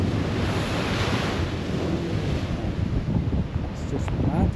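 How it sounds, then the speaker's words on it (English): Large sea waves crash along the Dover coast under strong gusting wind, a constant loud roar of surf and buffeting air filling the whole stretch. "There, so you see the size of these waves."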